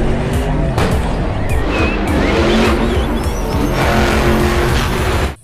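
Bigfoot monster truck toy car with a loud, continuous engine-and-tire-squeal sound effect, racing-car style, steady throughout and cutting off at the end.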